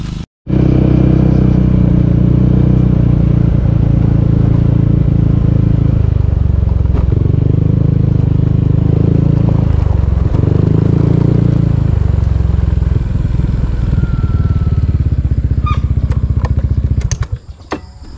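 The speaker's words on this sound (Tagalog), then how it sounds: "Naririnig ko yung motor mo eh." A motorcycle near a gate, its engine running loud and close for most of the stretch, the low rumble shifting in pitch as it revs and settles, then cutting off near the end.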